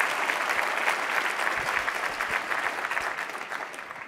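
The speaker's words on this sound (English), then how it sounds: "Let's have a big round of applause for Chef Bayless." An audience gives Chef Rick Bayless a warm round of applause at a speaking event, the clapping steady and full before gradually thinning toward the end.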